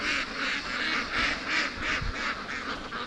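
Ducks quack in rhythmic, repeated bursts while feeding on wet grass in a rainy yard, a steady run of about eight calls at moderate distance with no talking.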